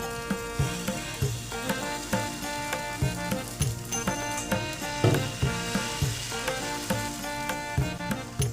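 Atta and besan chila batter frying in oil in a pan, a close steady sizzle under repeated rhythmic scraping and tapping of a spatula against the pan.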